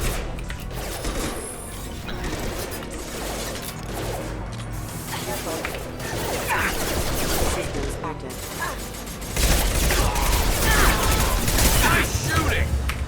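Combat in Mass Effect 2 brings rapid gunfire, clattering bursts and mechanical clicks layered over a busy battle din that grows louder toward the end, with voices mixed in.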